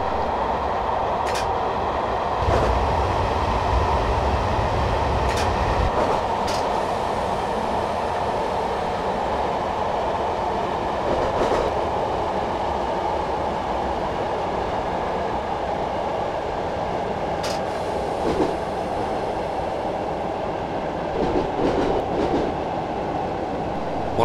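A Class 421 electric train in Train Simulator 2015, running the Brighton to London Victoria route, brakes as it enters Haywards Heath Tunnel. A steady, loud rolling rumble carries on throughout, with occasional clicks from the wheels and faint squeals.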